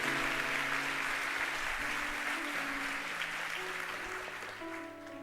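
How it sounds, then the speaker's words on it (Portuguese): A church congregation applauding during a worship service, a dense, steady wash of clapping that carries on throughout and slowly fades, with faint music held underneath. "Dê o melhor aplauso que você pode dar ao Senhor."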